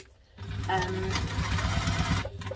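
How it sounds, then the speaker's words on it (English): A sewing machine runs steadily at close range, stitching a double-compartment lunch tote. The motor hum and rapid needle clatter continue for about two seconds before stopping. "So now we're going to stitch this one on again"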